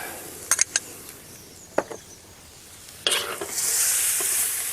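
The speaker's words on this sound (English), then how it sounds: "we now just let that simmer gently away until the lamb is cooked" Lamb curry with natural yogurt cooking in a pan: a few scattered clacks of stirring give way to a loud, steady sizzle that swells in the second half, heard close and without talk.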